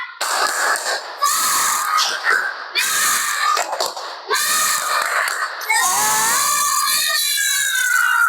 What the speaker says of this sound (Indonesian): Ayo kita bersama-sama tepuk semangat agar belajarnya semakin semangat.